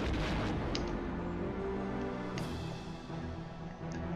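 Starfighter strafing barracks in the Rogue Squadron video game: a dense, continuous rumble of blaster fire and explosions that holds steady throughout, with a couple of sharper bursts standing out.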